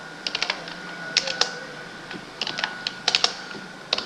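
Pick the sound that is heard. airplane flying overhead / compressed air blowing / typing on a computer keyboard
typing on a computer keyboard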